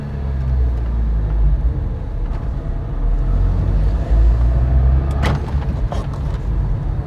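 A Maruti Esteem rebuilt from scrap idles and runs, its engine and exhaust giving a loud, steady low rumble close by with a few brief clicks near the end and no talk.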